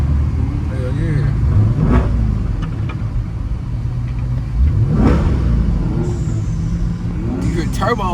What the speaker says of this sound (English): You hear turbos over there.